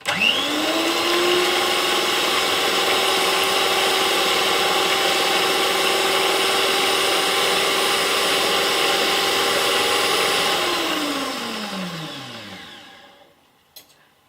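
Electric mixer whirring steadily for over ten seconds as it beats sugar into a batter for pumpkin fritters, loud and close, then winding down to a stop.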